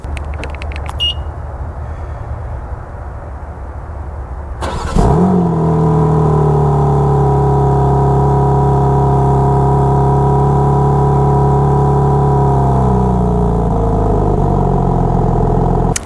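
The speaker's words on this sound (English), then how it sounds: "Let's do an exhaust sound just for you guys who want to hear the exhaust." A BMW X3 M engine starts and settles into a loud, steady exhaust rumble close by, with a quiet beep just before.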